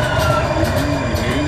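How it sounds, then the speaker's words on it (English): A train passes close by as a loud, steady rumble and roar with a faint metallic whine running through it, filling the whole moment with no gaps. "New train."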